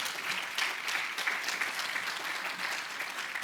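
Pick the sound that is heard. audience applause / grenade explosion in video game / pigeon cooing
audience applause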